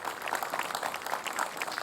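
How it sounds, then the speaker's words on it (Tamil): A TV show studio audience claps for a child in a short, fairly faint burst of scattered applause. "குழந்தைக்கு ஒரு கைத்தட்டல் கொடுங்களேன்"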